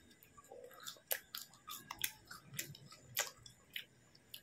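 Close, crisp crunching bites and chewing of french fries during a mukbang, with sharp bite clicks spaced about every second between softer mouth sounds, quiet and with no talking.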